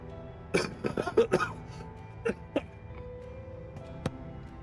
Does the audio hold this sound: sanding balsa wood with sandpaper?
no